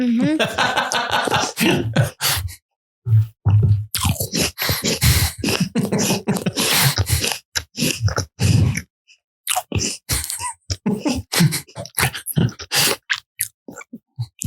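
Crunchy chewing and biting of an apple, close to the mic, with a person talking intermittently over and between the bites.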